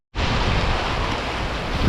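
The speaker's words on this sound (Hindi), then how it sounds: "ऐसा लग रहा है बरसात आ गई" Heavy rain pours down while rainwater rushes along a mountain road, a dense, loud, unbroken hiss that starts abruptly and holds steady.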